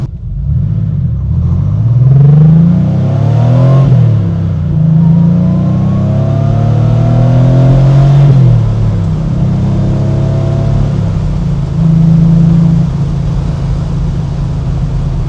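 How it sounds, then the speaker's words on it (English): A Porsche 911 engine revs steadily while driving, pitch climbing and dropping as it moves up through the gears, loud and close with no talk over it. "The engine is revving up very smooth."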